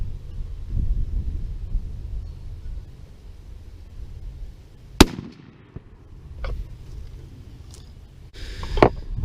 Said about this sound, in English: that was the 50-yard shot with the Winchester SX4 shooting the 3-inch Winchester number 5s